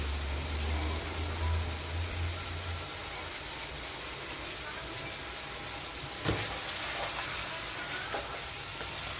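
Chicken stew is stirred in a pot under a constant hissing sizzle, with a low rumble at the start and a single sharp scrape partway through.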